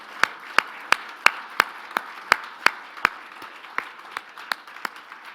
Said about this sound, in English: If we could have a round of applause for everybody who made this possible.